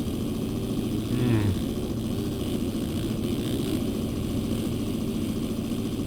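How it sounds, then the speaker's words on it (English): A two-stroke motocross bike engine in MX Simulator at a Seattle supercross round, a buzzing, droning motor held steady for several seconds with a brief louder rev about a second in. "I heard a two-stroke."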